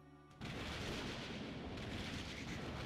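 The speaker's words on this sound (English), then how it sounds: "His shotgun roars almost as loud as the booming thunder." A shotgun blast from the visual novel Code Realize opens after a brief quiet moment, followed by a loud, sustained broadband roar that rumbles steadily for a few seconds like booming thunder, with no voices.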